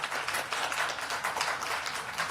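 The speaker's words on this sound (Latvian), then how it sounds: "Aplausi Ievai!" Audience applause welcoming a speaker on stage at a talk event, steady dense clapping from a crowd filling the whole moment at an even level.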